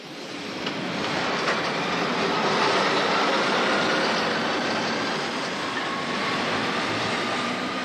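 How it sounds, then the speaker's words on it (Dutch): A Swiss narrow-gauge train of the federal railways runs along its rails, giving a steady, loud rolling rumble with faint wheel clatter that swells slightly and then holds even throughout, with no voices. "Onze 4e trein die dag gaat over de enige smalspoorlijn van de Zwitserse federale spoorwegen."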